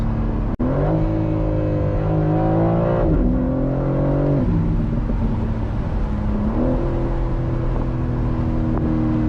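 A 2025 BMW M4 Competition Convertible, facelift model, accelerates hard from inside the cabin, its engine pitch climbing and dropping sharply at several gear shifts over a loud, continuous roar.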